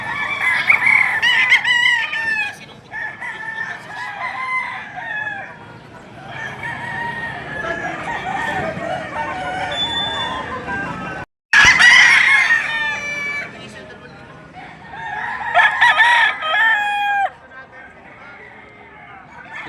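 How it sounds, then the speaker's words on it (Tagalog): Roosters crow repeatedly at a Tuesday chicken market in Padre Garcia, Batangas, with loud overlapping cock-a-doodle-doos and clucking close by, mixed with people talking in the background throughout. "Yan yung mga manok dito sa Padre Garcia tuwing araw ng Martes."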